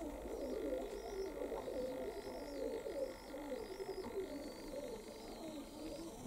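Young pigeons cooing outdoors, soft repeated throaty coos rising and falling in a steady rhythm, faint against a low background hum.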